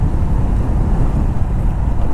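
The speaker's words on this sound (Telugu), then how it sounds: "మంచిగా విండ్ బ్లాస్ట్ కూడా గట్టిగా వస్తుంది" Strong wind rushing over the microphone while riding a stock-exhaust motorbike with a K&N filter on the road to Ananthagiri Hills, a loud, continuous low roar of buffeting wind with engine and road noise mixed in.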